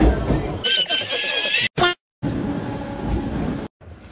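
Crowded fast commuter train interior, with steady rumbling rail noise and a babble of many passengers talking, broken by a couple of brief sharp cutouts.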